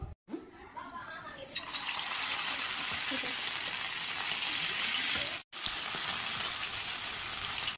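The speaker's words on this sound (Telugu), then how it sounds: "ఏమండో ఆయిల్ మరిగిపోయింది, మరి చికెన్ ముక్కలు వేసుకుందామా?" Chicken pieces drop into boiling oil and set off a loud, steady sizzle and crackle of frying that fills the whole stretch, with a brief break partway through.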